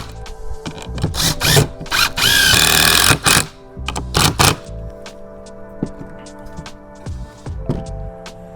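A cordless power drill whirs in several short bursts, driving a screw into wood while building a coffee table, with small clatters and pauses between the loud runs.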